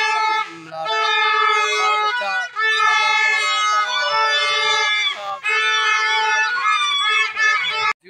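Children blowing toy horns (baja) in a street during Independence Day celebrations on August 14th, a loud, continuous blaring of overlapping horn tones with crowd noise and brief dips.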